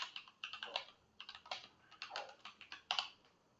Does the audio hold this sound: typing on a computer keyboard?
yes